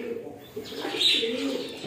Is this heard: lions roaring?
no